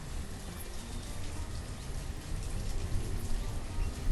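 Steady rain from the video game Banished, a dense continuous hiss and patter that fills the whole stretch and swells a little toward the end, with no voices.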